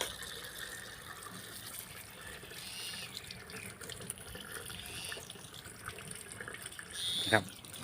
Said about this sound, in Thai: เขาจะมา ล้างทำความสะอาดนะครับล้างทำความสะอาด